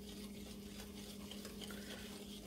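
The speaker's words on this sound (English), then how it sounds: "So we're just going to whisk the sugar in." Sugar being whisked into cookie batter in a bowl makes a soft, continuous scraping and stirring sound at close range, faint and steady throughout.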